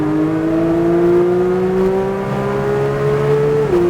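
A Porsche 911 accelerates hard around the COTA circuit, its engine a loud, steady rising drone with clear harmonic tones that climb slowly, then dip briefly near the end as the throttle shifts.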